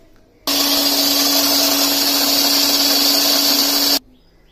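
A mixer grinder whirs loud and steady for about three and a half seconds, grinding a fasting-style chutney thinned with a little water. The motor starts and stops abruptly, with no talk over it.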